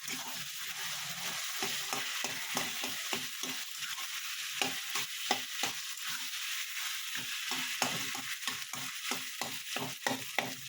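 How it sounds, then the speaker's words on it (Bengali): Potatoes sizzle steadily in a pan while a spatula scrapes and presses, breaking them up in quick, regular strokes, with no one speaking. "যেটা যেটা একটু আলু গোটা গোটা আছে ওইটাকে একটু খুন্তির দ্বারা ভেঙে নেব।"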